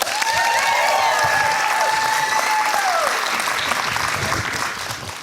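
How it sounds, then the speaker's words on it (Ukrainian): A comedy show audience breaks into applause, a loud, thick burst of clapping that thins and fades toward the end, with a sustained tone and faint voices mixed underneath. "Ваші оплески, друзі!"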